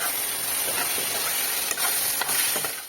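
A watery spice paste sautéed and stirred in a pan, a strong close hissing sizzle throughout with a couple of faint spoon knocks, no voices.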